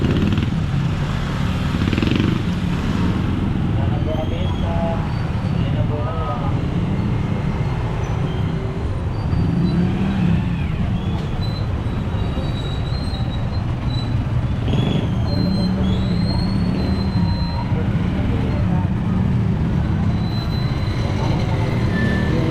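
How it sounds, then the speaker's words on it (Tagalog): Friday traffic on Burgos Street rumbles steadily with cars and motorcycles, a dense, continuous roar of engines and road noise with no talk. "Ganyan ka-traffic dito pag Friday."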